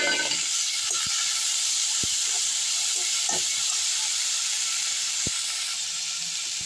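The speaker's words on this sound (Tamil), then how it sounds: "கொஞ்சம் தீயை குறைச்சி வச்சே வதக்குங்க, ரொம்ப கருக வதக்கக்கூடாது." Coriander and grated coconut masala sauté in a pan over low heat, giving a steady, close sizzling hiss. Occasional light clicks and scrapes come from stirring, and no one speaks.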